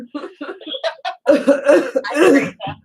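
A person coughs and clears their throat several times in quick, harsh bursts, close and fairly loud, with no other sound around it.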